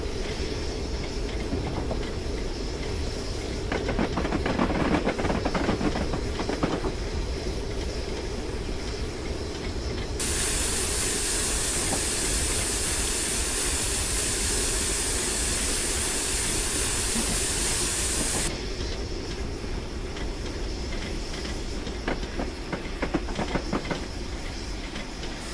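A Flying Scotsman steam train in Train Simulator rolls into a station stop, giving a steady rumble with clattering wheel noise and a long loud hiss of steam or air in the middle, then easing back to rumbling.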